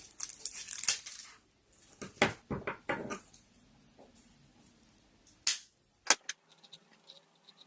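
A dried flower arrangement is cut to size for a DIY Christmas ornament, giving sharp snips and crisp crunching, crackling bursts separated by short pauses.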